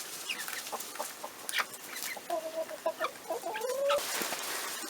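Silkie chickens, including a silkie rooster, cluck and make short, chattering calls nearby, fairly soft and irregular, with a longer rising call partway through.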